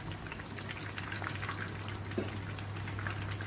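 Battered sea bass fillets frying in hot oil, giving a steady soft sizzle with scattered light crackles and pops over a faint low hum, with no talking.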